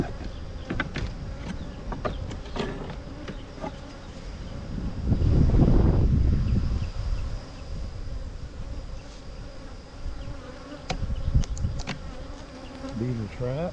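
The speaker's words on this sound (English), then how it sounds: "Still a bunch of bees." Bees buzz densely around a swarm beehive topped with a super box, a steady near hum with swells of louder buzzing and brief passes of individual bees close by.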